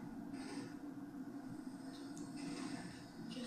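Inside a moving subway car, a low steady rumble and hum of the train runs throughout at a faint level, with occasional higher rattles and squeals.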